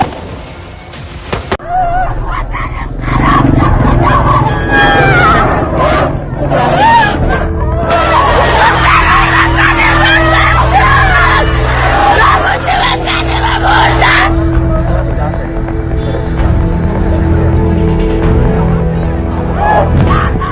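A woman screams and wails amid a noisy crowd in Afghanistan under the Taliban, her cries loud and continuous over dense background babble and commotion.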